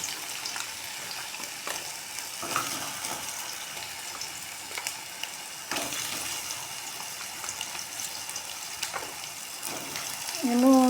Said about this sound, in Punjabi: ਇਹਨੂੰ ਪਾ ਦਈਏ ਇੱਧਰ ਆਪਣੇ ਤੇਲ ਦੇ ਵਿੱਚ ਮੈਂ ਤਾਂ ਕਰ ਲੈਣੀ ਹਾਂ ਫਰਾਈ